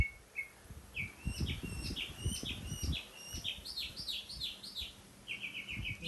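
A nightingale sings in a garden during a drought, with a fairly faint series of quick, sweet chirping phrases that repeat over a low, uneven background rumble.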